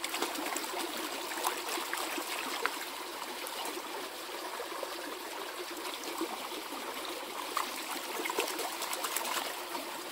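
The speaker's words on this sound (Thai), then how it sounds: "มันเป็นน้ำไหลแรง" Fast, strong stream water rushes under a bridge where wild coriander is being washed, a steady close hiss of trickling and splashing with scattered small drips, no talking.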